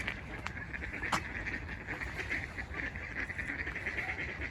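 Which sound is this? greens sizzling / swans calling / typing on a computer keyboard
swans calling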